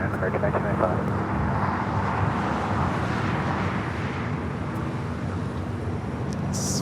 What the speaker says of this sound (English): Flight coming in from Vegas.